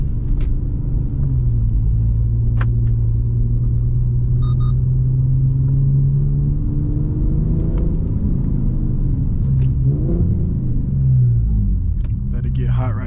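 An Infiniti G37X with a manual transmission idles while warming up, a deep steady engine rumble with slight shifts in pitch, while someone talks over it inside the car.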